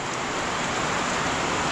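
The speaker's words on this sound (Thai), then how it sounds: "ฝนตกเนาะ" Steady rain falls outdoors with a dense, even hiss that continues without a break, loud and close.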